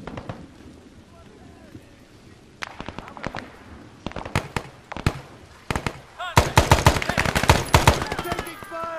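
Gunfire in the Arma video game: sparse single shots at first, then increasingly dense, loud bursts of rapid automatic fire close by, rising to a sustained crackling fusillade near the end.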